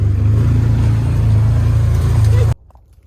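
Side-by-side utility vehicle engine droning steadily and loudly at low pitch during an outdoor ride, then cutting off abruptly, leaving near silence.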